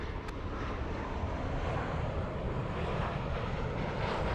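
An airliner passes at LAX, heard as a steady, broad jet roar mixed with wind buffeting on the microphone, with no voices.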